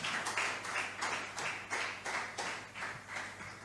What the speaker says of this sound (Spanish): un aplauso al Señor Jesucristo